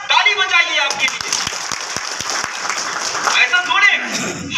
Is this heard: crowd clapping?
yes